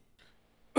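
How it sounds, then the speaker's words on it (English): A single short, sharp cough near the end, close by, after a faint breathy sound and quiet. "Suddenly, Marco started coughing."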